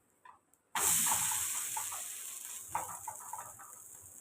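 Oil poured around a black urad dal and drumstick-leaf adai in a hot pan bursts into a loud, sudden sizzle after a couple of soft taps, then settles into a steady hissing crackle.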